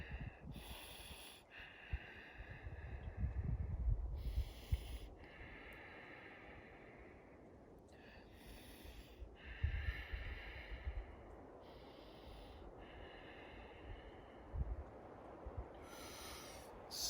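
Slow, deep breaths held through a yoga hip flexor stretch, about half a dozen airy inhales and exhales repeating every couple of seconds close to the microphone, over a soft low rumble, with no speech.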